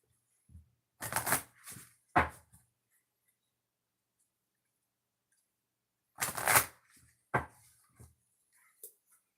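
Cards are shuffled in two brief clusters of papery riffles and taps, separated by several seconds of silence.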